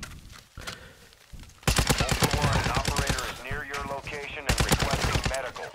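Dense automatic gunfire in the video game Call of Duty DMZ, loud rapid bursts that start abruptly and keep rattling for several seconds with brief pauses.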